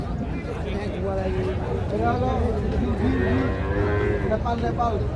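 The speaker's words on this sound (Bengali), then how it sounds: "আরও কিছু আমরা গাভী বাছুর দেখছি" Cows and calves at a cattle farm market in Chattogram moo repeatedly, loud and close, under steady chatter from people talking among the animals.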